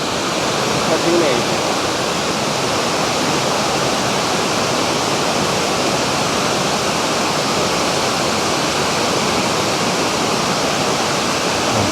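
Kuang Si waterfall in Laos, a loud, continuous roar of falling water that holds steady and close throughout without any break.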